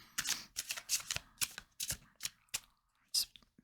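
A deck of fortune-telling and Lenormand cards is shuffled close up, a quick irregular run of riffling flicks and soft slaps at steady volume, with no speech.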